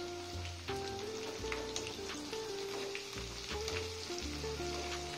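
Curry leaves frying in hot oil for a grated mango pickle, a steady crackling sizzle with quick pops and spatters throughout, close and moderately loud with no talking.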